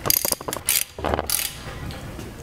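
Metal plates of a WerkMaster Viper XT floor grinder are pulled apart, producing a quick series of close clicks, ratcheting clacks and scraping rattles over about two seconds.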